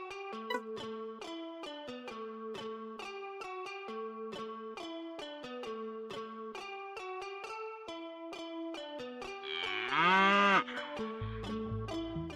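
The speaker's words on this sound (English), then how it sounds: "We need to take the cow to the milking station" A cow moos loudly over cheerful in-game music in the PC strategy game Fluffy Horde during a cow escort mission, one long drawn-out low call near the end with a thumping sound effect after.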